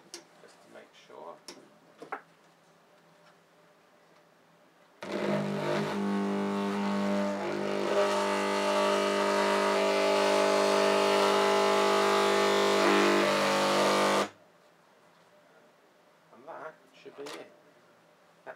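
Degausser wiping a hard drive magnetically, a loud steady electric hum with buzzing overtones that starts abruptly, holds for about nine seconds and cuts off, with faint handling noises before and after.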